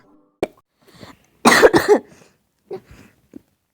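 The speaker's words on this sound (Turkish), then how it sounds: "kanka ne oldu çok öksürdün" Several coughs, a sharp one followed by a loud cluster of harsh hacking coughs and a few softer coughs after, close and clear with no talking.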